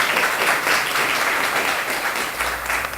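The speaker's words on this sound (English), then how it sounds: "Let's give the mayor a round of applause." A steady wash of audience applause for the mayor at a civic celebration in a building leased for homeless veteran housing, dense and continuous from start to finish with no voices over it.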